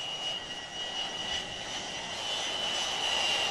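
A Lockheed S-3 Viking naval jet of Sea Control Squadron 31 at Jacksonville air base roars with steady engine noise and a high whine, loud and unbroken, slightly swelling toward the end.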